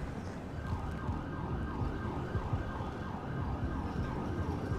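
Ambulance siren in GTA 5, from a Ford F-750 ambulance: a steady repeating wail cycling over and over against road and traffic noise, fairly faint and unbroken, with no talk.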